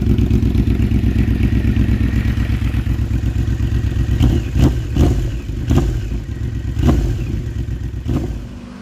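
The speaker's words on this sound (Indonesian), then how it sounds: "Yamaha VMAX adalah sebuah motor cruiser yang punya mesin motor sport sejati." A Yamaha VMAX cruiser motorcycle with a sport-bike engine idles loudly and steadily up close, then gets several sharp throttle blips in quick succession toward the end, each rev rising and falling back to a rumbling idle.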